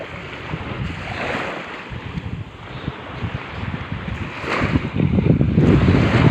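Sea waves wash onto the shore at Paratong beach in Candon, Ilocos Sur, a steady rushing surf with gusty wind buffeting the microphone, building louder toward the end with no talking.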